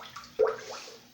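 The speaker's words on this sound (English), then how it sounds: "I'm going to start out first by putting the quart of V8 into" A quart of V8 juice poured into a crock pot, a short faint glugging splash with one sharper gurgle, heard alone.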